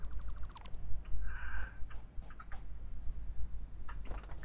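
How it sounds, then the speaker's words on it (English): A golf cart siren in the video game Satisfactory gives a burst of short repeated electronic pulses, then a brief wavering tone and scattered chirps over a steady low rumble, with no talk. "I want to turn on the siren!"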